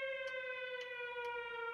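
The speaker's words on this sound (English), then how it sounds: "That Christmas was rhythmed by the sirens from the curfew." A steady, sustained curfew siren wail holds a single tone, with faint clicks at intervals.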